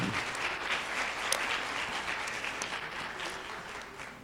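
Audience clapping after a medical lecture by a doctor, a dense, steady wash of many hands applauding indoors at moderate volume, tapering only slightly over a few seconds with no talking.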